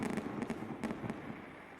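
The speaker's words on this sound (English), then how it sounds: "Fireworks going off," Fireworks bursting above an outdoor NHL alumni hockey game, a run of crackling pops and booms spread across open air, with a busy crowd-like wash underneath and no clear talk.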